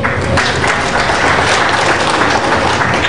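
Dense, sustained audience applause fills a conference hall for a civil aviation navigation services event in Nigeria, steady and loud with many overlapping claps throughout, no voice on top.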